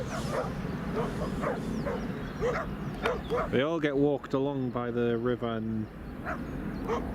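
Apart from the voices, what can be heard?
dogs barking in the background by the river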